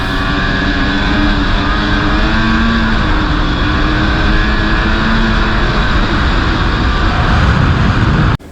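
A 2016 snowmobile runs steadily along a trail near Old Forge, its engine a loud continuous drone with harmonic whine and rushing track noise throughout, cutting off abruptly at the very end.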